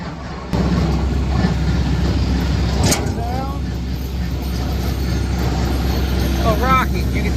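An RK 25 tractor engine runs at rising RPM with a 6 foot bushhog attached, a loud steady mechanical roar close by, with people talking over it.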